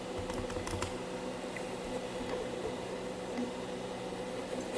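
Computer keyboard typing on a Raspberry Pi 5 setup, a short burst of close, crisp keystrokes ending with an Enter press, followed by a steady low hum of background noise.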